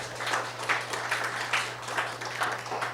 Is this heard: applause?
yes